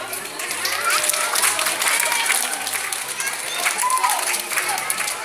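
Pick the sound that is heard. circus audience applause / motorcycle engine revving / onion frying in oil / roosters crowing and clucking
circus audience applause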